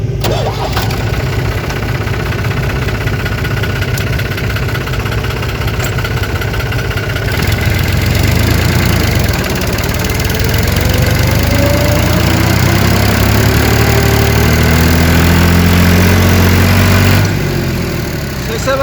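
A combine harvester engine starts up loudly and settles into a steady, rumbling idle close by, running for the whole stretch with little or no talk over it.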